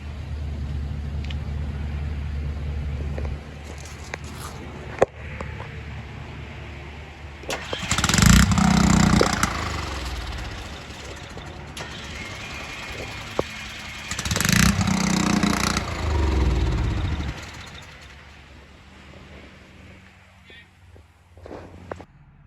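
A 2007 Roadtrek Popular 210 motorhome engine cranks and starts, then settles into a steady idle, with bursts of louder revving and some background movement.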